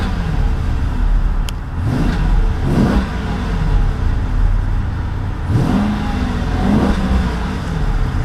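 A 2012 Dodge Charger SRT-8's big V8 revved in park against a 4,000 RPM limiter, several distinct blips rising and falling over a steady idle rumble, moderately loud with no talking.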